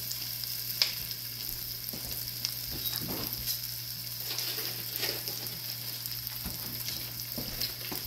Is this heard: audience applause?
no